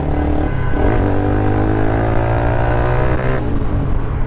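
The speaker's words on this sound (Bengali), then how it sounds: "এই বাইকের এক্সজস্টের যে সাউন্ড রে ভাই" The exhaust of a GPX Demon motorcycle on a ride through Dhaka city. A loud, close engine note climbs steadily in pitch as the throttle opens, then falls back into a continuous rumble.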